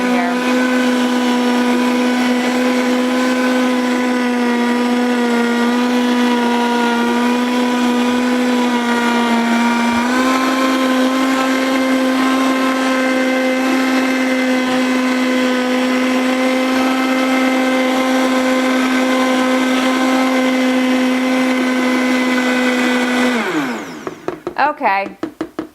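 A blender motor whirs at a steady, loud pitch, blending an apple and date smoothie with chunky ingredients. It runs continuously for over twenty seconds with a slight pitch shift midway, then winds down abruptly at the end.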